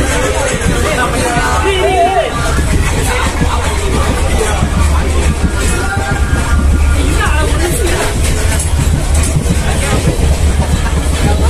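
Steady rumble and rhythmic clatter fill a moving passenger train compartment on a Dharmapuri to Bangalore trip, loud and continuous throughout, with a hubbub of voices and chatter mixed in.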